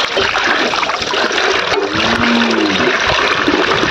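Water pours steadily into a drinking glass at a wedding meal, a continuous close trickle and splash with a faintly rising tone as the glass fills, over busy background noise.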